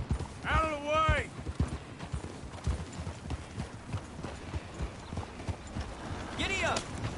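Horse hooves gallop in a steady clip-clop rhythm in Red Dead Redemption 2, with a couple of whinnies near the start and end, and shouting over the pounding run.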